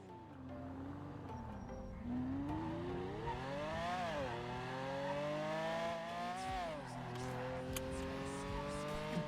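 Video game car engine revving hard and continuously with rising and falling pitch as it shifts gears, tires squealing intermittently, loud and close throughout.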